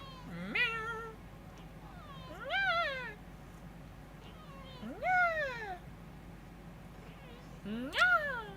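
A cat meows four times at spaced intervals, with each cry rising and falling in pitch. The meows are fairly close and clear against a low, steady background hum.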